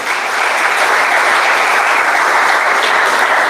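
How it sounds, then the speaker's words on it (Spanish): Loud, continuous applause fills the room as a church congregation claps its hands together as an offering to the Lord, an even wash of many hands with no break or voices over it. "¿Cuántos pueden dar una ofrenda de aplauso al Señor?"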